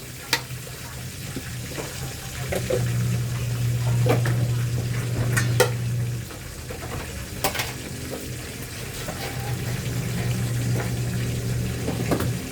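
Shrimp going into a pot of simmering coconut milk with squash, giving a steady close bubbling and sizzling bed broken by sharp clinks and splashes, with no talking.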